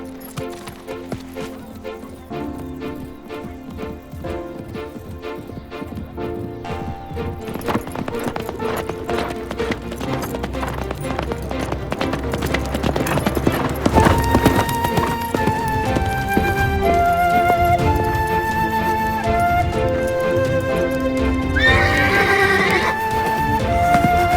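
Horses gallop with rapid, rhythmic clip-clop hoofbeats and loud neighs, set against a swelling musical score that grows fuller and louder toward the end.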